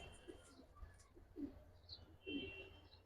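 Giribaz pigeons coo softly in a loft, with three or four low, throaty coos spaced about a second apart and faint chirps, quiet and fairly close, no talking.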